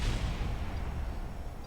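Heavy gunfire from a combat fight in Kerbal Space Program, a loud booming burst that rumbles and fades over under two seconds, with no voices.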